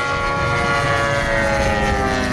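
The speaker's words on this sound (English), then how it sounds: "Pull the airplane up high overhead, smoldering." A quarter-scale RC airplane trailing smoke at an air show drones with a continuous, loud, steady engine whine that fills the whole stretch without pause.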